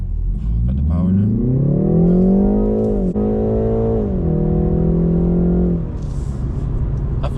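A 2020 BMW 330i engine in sport mode holds a loud, steady brake-torque rev, then pitches up hard as the car launches and pulls through the gears, a loud close drone that eases off near the end.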